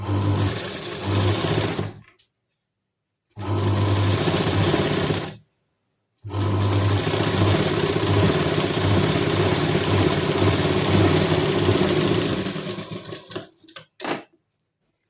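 A sewing machine runs a line of stitching along a folded hook strip on a blouse, loud and close in three long steady bursts broken by short silences, ending in a few quick stops and starts.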